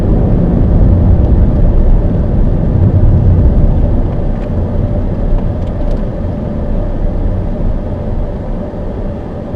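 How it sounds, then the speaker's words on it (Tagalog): A manual car holding 4th gear while engine braking gives a steady low engine drone and road rumble from inside the cabin, continuous and even with no talking. "naka 4th gear ako, ginagamit ko yung kanyang engine brake"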